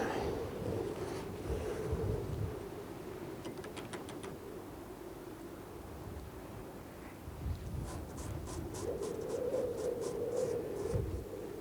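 Wind blowing outdoors on Bardsey Island, a continuous buffeting rush close to the microphone, with rhythmic clicking bursts in places.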